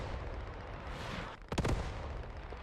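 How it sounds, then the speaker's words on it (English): Artillery fire in a video game: a sharp close blast rises out of a dense rumbling battle din, with distant explosions and noise filling the background. "Well-placed artillery cleans out most of the defenders here."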